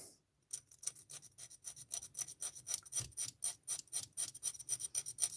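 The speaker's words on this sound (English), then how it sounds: "sanding this piece off" Close, rhythmic rasping strokes of sandpaper on a small hard plastic model part, repeated steadily about three times a second with no talking.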